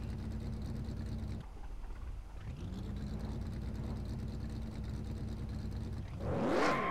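A stock car engine in a racing video game hums at a steady pitch, dipping briefly and recovering, with a sharper rising rev and scraping burst at the end as the car backs into a wall.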